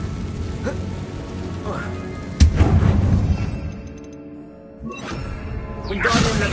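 Bombarda and Confringo spell explosions go off in Hogwarts Legacy, one sharp booming blast midway and a smaller burst later, with a voice speaking over them.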